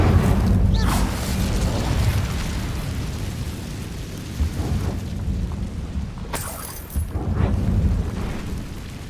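An Incendio fire spell cast in Hogwarts Legacy gives a loud, rumbling roar of flame with repeated booming bursts that fill the whole stretch, and a faint voice sits underneath.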